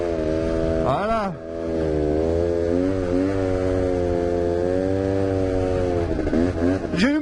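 A new quad bike engine runs loud and close during break-in, holding a steady drone with quick revs near the start and end, while a voice talks over it.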